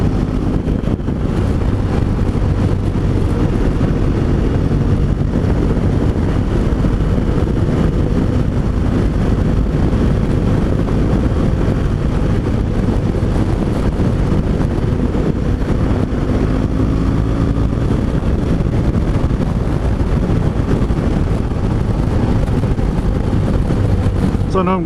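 A BMW 1200 GSA motorcycle ridden at speed, its engine a steady low drone heavily mixed with loud, constant wind rush over the microphone throughout, with no talking.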